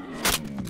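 A weapon reload in Left 4 Dead 2: a brief metallic slide and scrape followed by a softer click, close and fairly loud, lasting under a second.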